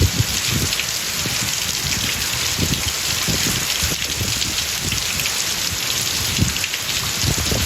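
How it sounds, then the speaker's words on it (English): Heavy rain pours down steadily on a sailboat at anchor off Governor's Harbour, Eleuthera, a dense hiss of drops drumming on a nearby surface, loud and unbroken with no talking. "It is pouring rain."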